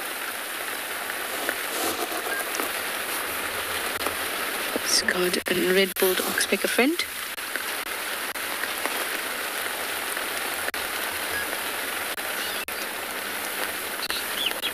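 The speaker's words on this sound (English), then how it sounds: "Oh, listen to that rain." Steady rain falls on the African bush in South Africa during an afternoon safari with impalas nearby, a continuous close hiss of drops throughout, with someone talking briefly over it midway.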